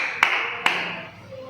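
In a classroom clapping game, students give two sharp, crisp claps in quick succession, close and distinct against a quiet room, followed by a faint tonal trailing sound.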